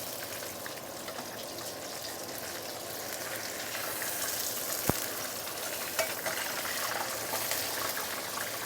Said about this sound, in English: And fry the first side for, I would say, about 1 minute plus minus.